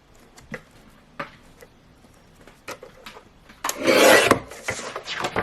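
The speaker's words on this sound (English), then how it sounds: "that's the Gemini guillotine, which obviously works" A Gemini paper guillotine slices through card for A5 blanks, giving a loud rasping swish of blade through card near the end, preceded by quieter taps and clicks of handling the card.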